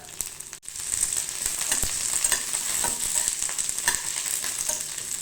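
Onions, ginger and dried red chillies sizzle steadily in hot oil in a pan, with occasional scrapes and taps from stirring, close up and continuous.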